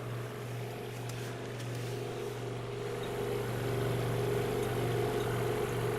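A Markel radiant heater's fan spins at a steady hum, a low constant drone with faint whirring that holds evenly and grows slightly louder over six seconds.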